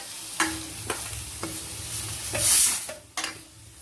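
Thinly sliced onions sizzle steadily in a hot pan while a utensil stirs and scrapes against it several times, with a brief louder hiss midway.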